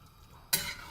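Tempering for a traditional South Indian sambar with okra and pumpkin hits hot oil halfway through, a sudden loud sizzle bursting out of near quiet and then settling.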